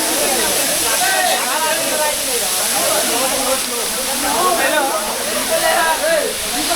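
A waterfall at Araku gives off a steady roaring rush of falling water, loud and constant, while voices talk over it throughout.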